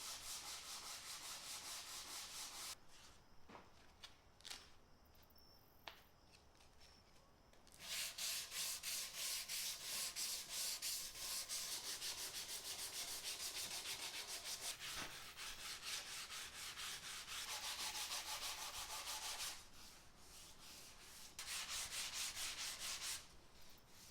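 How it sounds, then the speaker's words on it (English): Steady hand sanding of a wooden table with 150-grit sandpaper, a continuous close scratchy rasp of back-and-forth strokes, with brief pauses between passes. "I'll finish sanding this entire table by hand using 150 grit sandpaper."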